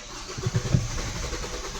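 A Mahindra XUV300 with an after-service starting problem being cranked on a start attempt, a few rough pulsing churns from the starter and engine that fail to catch, then a low, steady hum, with no talking.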